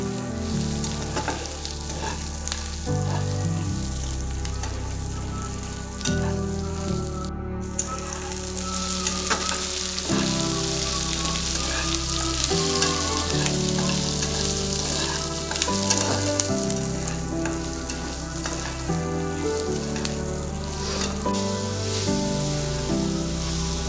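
Garlic cloves frying in a pan as the base for Punjabi butter chicken, giving a steady, dense sizzle that runs the whole time with no pauses, mixed with a constant tonal layer.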